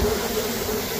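A dense, steady buzzing of many bees at a hive entrance in a house vent, close and continuous, humming without pause.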